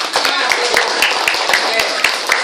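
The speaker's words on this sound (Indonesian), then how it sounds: "Untuk itu kita tepuk tangan" Schoolchildren in a primary school class clap in rhythm for a group after a Prophet Yusuf drama, sharp close claps in a regular pattern, several per second, with voices alongside.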